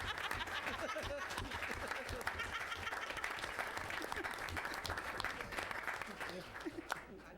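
Sustained applause from a modest audience at a Los Alamitos city council meeting, steady clapping throughout with a few chuckles and murmurs mixed in.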